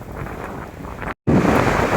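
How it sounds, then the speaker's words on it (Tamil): Strong wind in snowy Kazakhstan roars and buffets the microphone in a loud, rumbling gust, cutting out for a split second before surging back. "பயங்கர காற்று"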